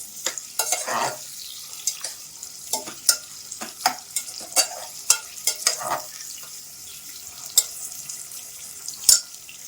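Chopped onions frying and browning in a pan for fried rice and aloo kurma curry, with repeated scraping stirs and crackling sizzle in irregular bursts, close and fairly loud, no voices.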